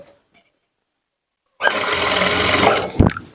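After near silence, a sewing machine starts up and stitches a lehenga in one steady, loud, close whirring run, ending with a brief clunk as it stops.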